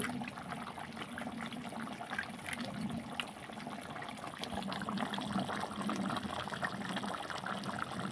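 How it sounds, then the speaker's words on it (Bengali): Ghee poured into a pot of chicken biryani gives a steady, soft liquid trickle with a faint sizzle, continuous and close throughout with no talking. "এবারে দিয়ে দেব ঘি।"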